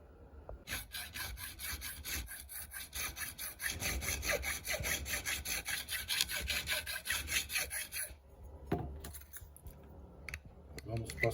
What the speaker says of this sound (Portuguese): nós vamos ter que limar esse traste do meio para que ele abaixe um pouco